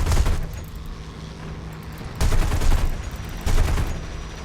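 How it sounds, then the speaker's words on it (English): Aircraft cannon on a Yak-3 fighter in the War Thunder flight game, loud rapid bursts over steady engine drone, with two distinct firing bursts rising sharply near the middle and end. "God, this cannon shakes the plane."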